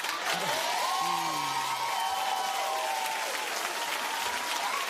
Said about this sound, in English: Keep clapping for that man